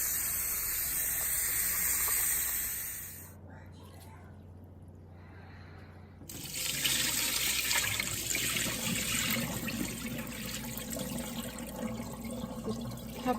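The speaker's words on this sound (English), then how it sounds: "You have to wash the rice really well to make sure that the water comes out really clear" Basmati rice washed in water, a strong rush of running and splashing water that stops briefly then returns louder with sloshing, close, with voice heard faintly at times.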